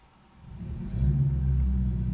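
A Ford F350 pickup engine turns over via remote start on a snowy day, a low rumble swelling into a steady, loud idle roar within about a second.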